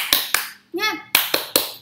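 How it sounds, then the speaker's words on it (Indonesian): A third-grade elementary class does a rhythmic clapping chant: two crisp, close claps, a short burst of children's chanting voices, then three more sharp claps in quick rhythm. "Ya, mari kita tepuk semangat ya."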